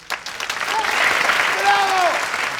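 A theater audience applauds after a stage performance in a film, a loud, full wash of clapping that swells and holds, with faint cheering voices and a few tonal calls riding over the crowd.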